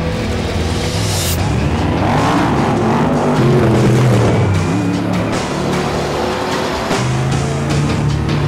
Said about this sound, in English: The EcoBoost engine powers the F-150 past all stock full trucks.